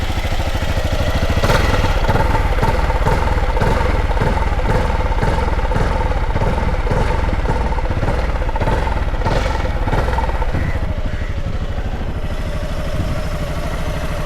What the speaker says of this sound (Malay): Exhaust dia bunyi garang tak?